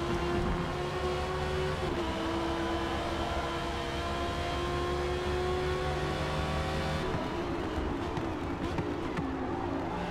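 An Audi R8 and a Porsche 911 race at Spa in the Forza Motorsport video game, with a sustained, moderately loud engine drone that shifts pitch as the cars accelerate and change gear.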